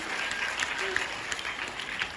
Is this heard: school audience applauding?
yes